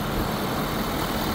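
A 2017 Ford F-350 Platinum 6.7 diesel idling at a raised idle, a steady broadband engine rumble heard up close with no talking.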